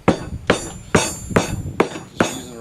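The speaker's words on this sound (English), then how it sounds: "Just using a rubber mallet, just pound her and she all vibrates down in there" Rubber mallet pounding a concrete bench mold to vibrate wet concrete into place, six sharp, loud thuds with a hollow ring, spaced roughly half a second apart and heard alone.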